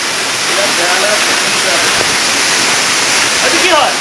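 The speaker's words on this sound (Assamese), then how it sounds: "সুন্দৰ প্ৰাকৃতিক পৰিৱেশৰ কাষত এটা জলপ্ৰপাত" A waterfall in a scenic natural setting near Pasighat, Arunachal Pradesh, roars loud and close as a continuous broadband rush, with faint voices now and then beneath it.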